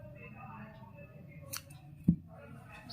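A single quick snip of scissors cutting crochet wool yarn, faint and brief, heard once against a quiet background with soft handling noise.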